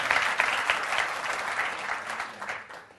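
An audience applauds at a hypnotic storytelling seminar, a dense, steady wash of clapping that holds for a few seconds and then fades toward the end.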